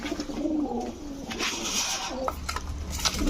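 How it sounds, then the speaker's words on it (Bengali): A female Giasulli Chuithal pigeon at a pigeon market coos in soft, low rolling notes amid other birds, light clattering and scattered background noise. "এই হচ্ছে আরেকটা মাদি গিয়াসুল্লি চুইঠাল মাদি কবুতর"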